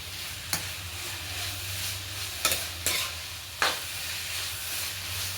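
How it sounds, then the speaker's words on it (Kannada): Carrot halwa with added sugar being stirred in a pan: a steady low sizzle with about four sharp spatula scrapes against the metal, close and moderately loud, no speech. "ಇವಾಗ ಇದನ್ನು ನೀಟಾಗಿ ಮಿಕ್ಸ್ ಮಾಡ್ಕೊಳ್ಳೋಣ"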